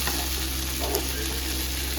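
Shallots and tomato fry in a pan, giving a close, steady sizzle with a soft stirring scrape, continuous and without speech.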